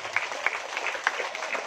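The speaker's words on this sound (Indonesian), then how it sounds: "Tepuk tangan untuk ranting Tapan Rejo." Applause for the Tapanrejo NU branch at a Muslimat Fatayat NU religious gathering, a faint, steady patter of many hands clapping at a distance, with a few louder claps standing out.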